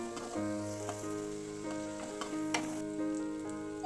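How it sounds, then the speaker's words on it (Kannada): Chopped onions fry in a pan for a broccoli stir-fry, a steady close sizzle running throughout with light crackle and occasional stirring clicks, no voices. "ಈಗ ಸಣ್ಣದಾಗಿ ಹಚ್ಚಿಟ್ಕೊಂಡಿರೋಂಥ ಈರುಳ್ಳಿನ ಸೇರಿಸ್ಕೊಬೇಕು. ಸ್ವಲ್ಪ ಕಲರ್ ಬರೋವರೆಗೂ ಫ್ರೈ ಮಾಡಿ."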